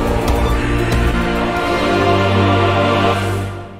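A sustained, dense orchestral chord opens the harmony of the Scaramouche boss theme from Genshin Impact, swelling richly with a low bass note entering partway through before fading.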